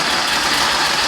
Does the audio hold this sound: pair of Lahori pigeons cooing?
no